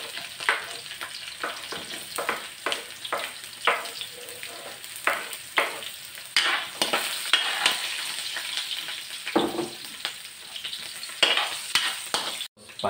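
Onions browning in a frying pan make a continuous close sizzle, broken by repeated sharp scraping bursts as a utensil stirs them, with no talk over it.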